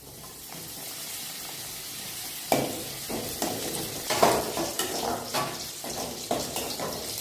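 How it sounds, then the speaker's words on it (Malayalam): Papadum frying in hot coconut oil in a cooking pot, a low sizzle swelling into several sharp bursts of crackling and bubbling as each piece hits the oil. "എണ്ണ ചൂടായിട്ടുണ്ട്. പപ്പടം വറുത്തെടുക്കാം."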